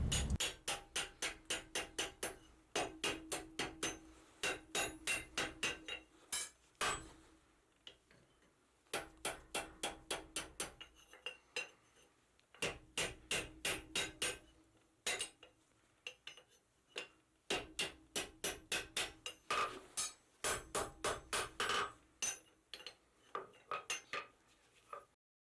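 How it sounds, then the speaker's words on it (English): Hammer blows forging the end of a steel bar into a tight scroll ring out in quick rhythmic bursts of sharp metallic strikes, with short pauses between each run. "this is going to allow me to hammer that section without distorting that tight scroll"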